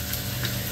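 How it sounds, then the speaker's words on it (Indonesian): Kepayang fruit frying in a pan gives a brief, steady sizzle with light stirring clicks, close and moderately loud, with no talk. "Jadi buah kepayang, saya akan goreng buah kepayang ni"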